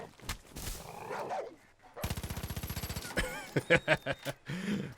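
Dog in the video game Far Cry 5, snarling and barking in short bursts amid rapid gunfire, someone talking over parts of it.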